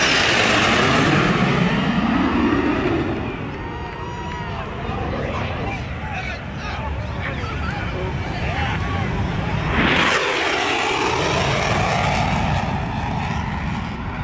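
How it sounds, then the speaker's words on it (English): Old P-51 propeller plane flying with F-35 and F-22 jets low over a beach, giving a loud roaring engine drone that fades a little, then swells into a sharp rushing flyby near the end, with a voice talking over it. "This old P-51 keeping up with an F-35 and an F-22."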